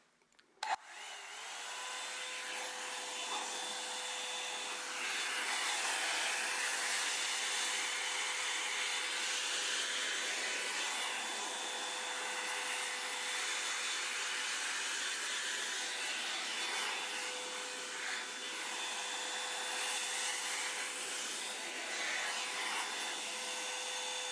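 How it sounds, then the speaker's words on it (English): A hair dryer blows steadily on a person's hair, a continuous close airy roar with a faint tonal whine that switches on abruptly and runs unbroken for the whole stretch with no talking. "then I'll blow dry it, because it takes forever to blow dry my hair"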